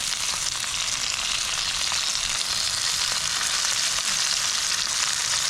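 Pieces of seablank fish frying in hot oil in a pan for a Kerala fish fry, a dense continuous sizzle throughout, close and loud with no talk.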